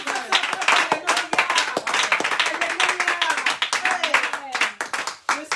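A church congregation clapping and acclaiming, dense rhythmic hand claps mixed with voices calling out and cheering throughout.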